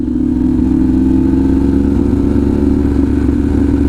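A Harley-Davidson Pan America motorcycle with a stealth exhaust runs steadily nearby, a loud, even engine drone with a low throaty hum and slight mechanical clatter, constant throughout without speech.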